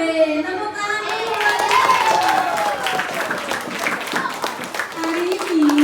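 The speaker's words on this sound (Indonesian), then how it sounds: "Tepuk tangan dulu." Elementary schoolchildren in a classroom clap their hands together, a steady crowd of clapping running under the children's voices, which rise and fall throughout.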